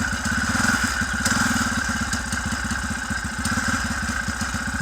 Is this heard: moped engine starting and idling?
yes